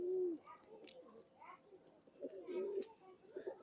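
Homing pigeons coo in low, throaty bursts near the start and again midway, close by, while someone talks over the birds.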